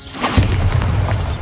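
A Bombarda blast spell in Hogwarts Legacy on PS5 lands as one sudden deep boom, followed by a low rumbling roll that holds loud for about a second.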